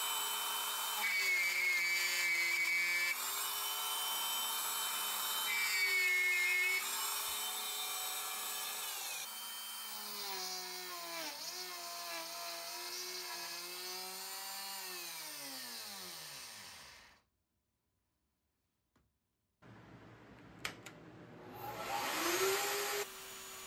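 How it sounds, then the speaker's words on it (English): A router with a 1/4 inch spiral bit cuts a wood mortise for a chess table, a loud steady high whine with shifting pitch as it bites, winding down to silence before briefly starting again. "I'm going to first use a 1/4 inch spiral bit to go down the center of the mortise to kind of clear out some of the material"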